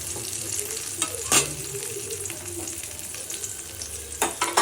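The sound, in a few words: ash gourd frying in a pan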